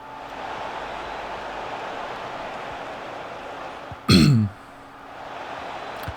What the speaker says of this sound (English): Sorry guys for all the coughing.